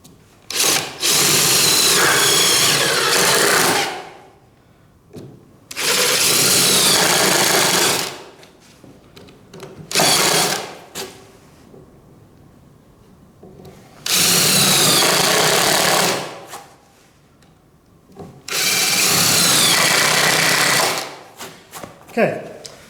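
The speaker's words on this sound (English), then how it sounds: "and we're just going to drill." A power drill whines in four loud bursts of a few seconds each, drilling halfway into a wooden 2x4, separated by short quiet gaps, close to the listener.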